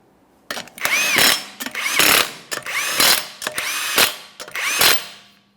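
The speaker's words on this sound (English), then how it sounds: "we're going to start on all 5 of our 21 millimeter lug nuts" A power tool spins on the 21 mm lug nuts of a 2014-2019 Toyota Corolla wheel in five loud, close bursts, each a whirring run of about half a second to a second, separated by short gaps.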